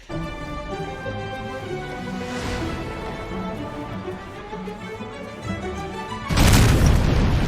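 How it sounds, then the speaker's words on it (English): An explosion sound effect from an episode of the True Lies TV series bursts in near the end as a loud, sudden boom, cutting across orchestral string music that plays throughout. "And an explosion goes off in Zurich"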